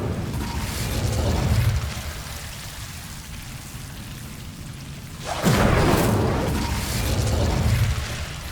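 Incendio fire spell cast in Hogwarts Legacy, a loud whooshing, roaring burst that swells in twice over a steady rumbling game background.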